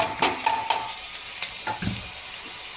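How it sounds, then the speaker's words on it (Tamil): Onions sautéing in oil in a pan for a spicy goat intestine fry, a steady close sizzle with a few sharp spoon clinks and scrapes against the pan near the start. "பாதி வெங்காயம் இப்படி எண்ணெயில் வதக்கியிருக்கோம்"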